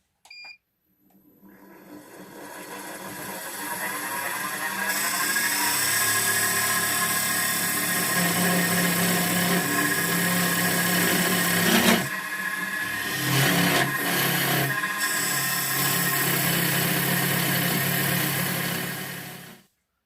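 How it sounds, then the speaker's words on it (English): A steady high-pitched whirring of a lathe with a square carbide cutter scraping spinning wood as a log is turned into a small candle holder, running continuously, with brief changes in tone midway. "I've got some carbide cutter, square carbide cutter. So I use that just to take a bit off the bottom."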